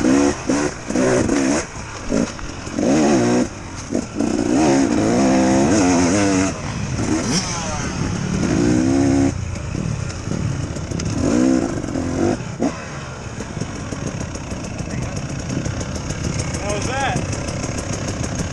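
A 2018 KTM 300XC-W dirt bike engine idles and revs in sharp bursts, loud and nearby at first, then settles into a lower, steadier running tone while people talk over it.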